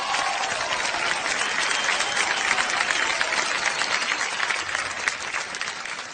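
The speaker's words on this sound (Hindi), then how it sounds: "जावेद साहब के लिए एक बार जोरदार तालियां हो जाएं।" Audience applause at an award show, loud and continuous clapping from a large crowd that keeps a steady level throughout with no speech on top.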